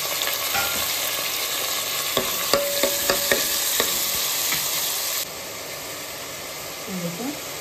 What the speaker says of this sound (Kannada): ಈರುಳ್ಳಿ ಹಾಕೊಂಡು ಹುರ್ಕೊಳ್ಬೇಕಾಗುತ್ತೆ.